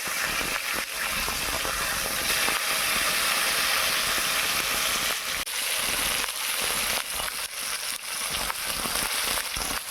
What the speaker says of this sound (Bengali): এই মাছগুলোর একটা সাইড ভাজা হয়ে গেছে, আমি খুব আলতোভাবে এদের উল্টে নেব।